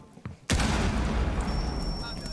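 A grenade blast in the tactical shooter Rainbow Six Siege erupts as one sudden loud boom, followed by sustained rumbling noise, with a steady high ringing tone joining partway through; a voice speaks faintly just before the blast.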